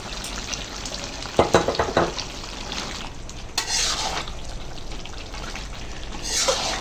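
Duck meat frying with yogurt in a pot for biryani: a continuous sizzle broken by several sharp bursts of spatula stirring and scraping, close and fairly loud.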